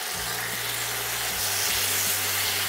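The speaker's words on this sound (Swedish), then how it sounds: "Nu ska vi steka dem och få så att de får fin färg." Pork tenderloin searing in a hot frying pan gives a steady, close broadband sizzle and hiss throughout, with a low hum underneath and no talking.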